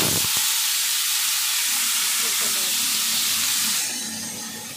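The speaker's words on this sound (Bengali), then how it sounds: "তো কড়াই তেল দিয়ে দিচ্ছি, আর দিয়ে দিলাম 5 ফোড়ন, আর দিয়ে দেবো এই ফুলকপি" Cauliflower dropped into hot oil with five-spice seeds in a wok gives a loud, steady hiss and sizzle that holds close and even, then eases slightly near the end.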